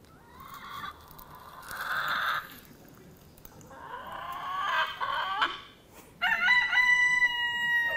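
Several chickens cluck and call, then a rooster crows loudly and close, its long cry ringing out near the end.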